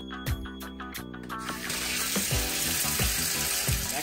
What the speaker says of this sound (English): get the water as hot as possible before refilling the tub up for the last time